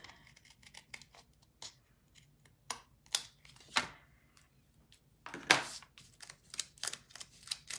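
Scissors trimming excess paper off a handmade pocket card, quiet snips and rustling cuts in an uneven series close by, no voices.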